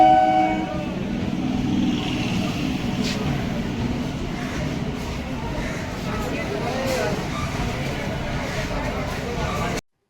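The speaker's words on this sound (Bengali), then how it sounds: "এখানে আমাদের ট্রেন চলে এসেছে ব্যারাকপুর যাবার গাড়ি" Train pulling into Dum Dum Junction railway station, bound for Barrackpore, with a steady dense rumble and platform crowd noise throughout, a brief horn-like tone at the start, and voices mixed into the din.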